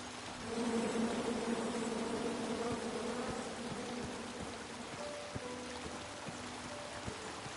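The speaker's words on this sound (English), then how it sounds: "Come at me, bees!" Bees buzz in a video game, a dense steady drone that holds throughout with faint clicks and game ambience underneath, no voices.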